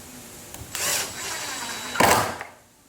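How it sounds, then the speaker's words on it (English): A power drill bores pocket holes into wood in two loud bursts, each about a second long, with a short whirring gap between them before the motor winds down. "So pre-drilling enables that to stay nice and straight and tight."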